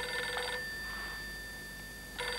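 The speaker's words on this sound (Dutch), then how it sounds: "De blauwe telefoon gaat 3 maal" A telephone rings with an electronic trilling tone, starting and stopping and then starting again, steady and fairly clear over a low background hum.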